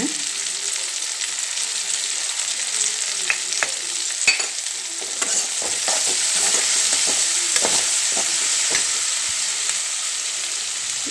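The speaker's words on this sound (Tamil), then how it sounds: "நான் போட்ட வெங்காயமும் நல்லா வதங்கிடுச்சுங்க இந்த நேரத்தில் கொஞ்சம் பெருங்காயம் போட்டுக்கலாங்க" Onions sizzle in a pan with a pinch of asafoetida, a steady loud frying hiss broken by occasional taps and scrapes of stirring, with no voices.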